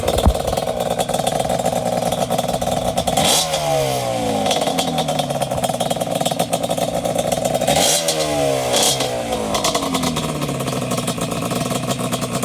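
A ported Yamaha Banshee two-stroke engine idles with a loud, buzzy drone and is revved sharply several times, each rev rising and falling quickly, heard close up.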